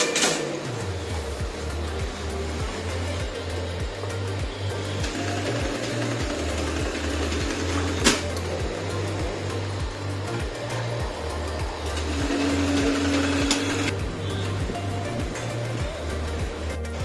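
Industrial sewing machines stitch shirts in a garment factory, a steady rapid mechanical thrum with rhythmic pulsing, joined by a brief clack and a sustained hiss of factory noise, with no voices.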